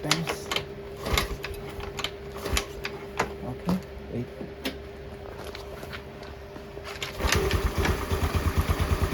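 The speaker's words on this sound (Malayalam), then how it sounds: "ഇപ്പം നമുക്ക് സൗണ്ട് കേൾക്കുകയാണെങ്കിൽ അറിയാം, നല്ല സ്മൂത്ത് ആയിട്ടാണ് എൻജിൻ റൺ ചെയ്യുന്നത്" A restored motorcycle engine, freshly reassembled and kick-started, runs steadily in a close, even stream of rhythmic firing pulses that grow louder and stronger toward the end.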